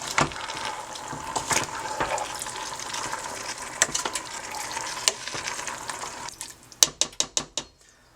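Undrained black-eyed peas are stirred in a pot, a close wet scraping and sloshing with scattered clinks, ending in a quick run of sharp spoon taps on the rim.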